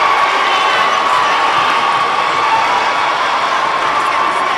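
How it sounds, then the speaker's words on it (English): BVI fans roar and cheer wildly at a 2014 CBC Championship basketball game between the British Virgin Islands and Guyana, a loud, dense, sustained crowd din with no breaks. "And the BVI crowd is going crazy"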